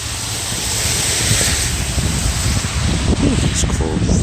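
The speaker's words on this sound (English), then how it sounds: "The wind's picking up, so I'm walking back" Steady wind roars through a New York City snowstorm, a broad continuous rush with buffeting gusts striking the microphone, loud and close throughout.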